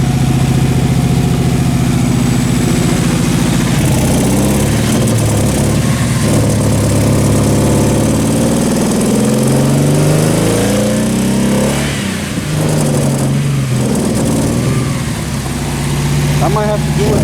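A Nissan 300ZX engine revs up and settles back repeatedly, loud and close, a rough throaty drone rising and falling in pitch with a steady idle between pushes; people talk over it at times.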